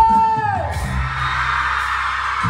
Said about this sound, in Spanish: todas las mujeres levantáis ese grito fuerte